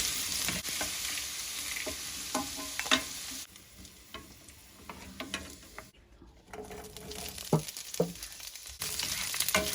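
Pork menudo sautéing in a pan while a spoon stirs it, close sizzling with irregular scraping and clinking strokes, briefly quieter midway before the frying picks back up.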